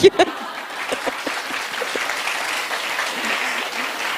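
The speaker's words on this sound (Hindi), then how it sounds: "ये जो आप बार बार तालियां बजा रहे हैं ना" An audience at a women's leadership conclave breaks into applause, with a couple of sharp claps at the start before steady, fairly close clapping fills the rest of the moment.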